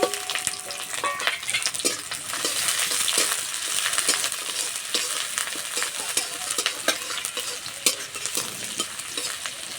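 Chopped onion sizzles in hot oil with bay leaf and whole garam masala, a loud steady fry with scattered clicks and scrapes from stirring, no voices.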